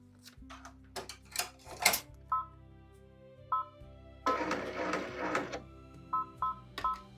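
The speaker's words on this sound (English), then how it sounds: "we're going to go to the embroidery machine and stitch a tack down line" An embroidery machine stitching a tack-down line in dark thread for a lion design, giving mechanical clicks, short electronic beeps and a dense burst of rapid whirring stitching, all close and without talk.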